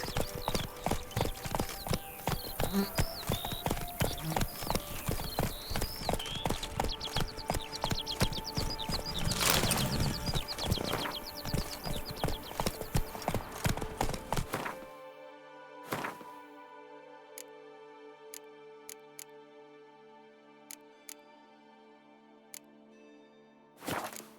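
Horse hooves clip-clop in a steady rhythmic trot in The Witcher 3: Blood and Wine, close and clear for about fifteen seconds, then slow to a few scattered knocks over quiet.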